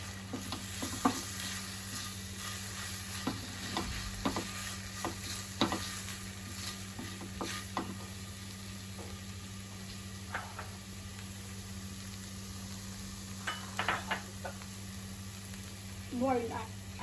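Chili flakes and oregano are stirred into a sizzling pan, with a steady frying hiss under repeated scraping and clinking strokes of a utensil, close and moderately loud.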